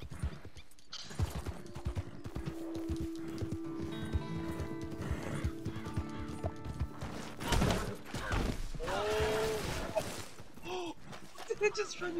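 A horse in the Red Dead Redemption 2 video game clops along with quick hoofbeats, then gives a loud whinny near the end, with some scattered sharp game sounds mixed in.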